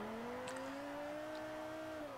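Lexus GS350 swapped with the LFA engine in Forza Horizon 4 holds a steady, smooth engine drone that climbs slightly in pitch and then eases off, with a faint tire chirp early on.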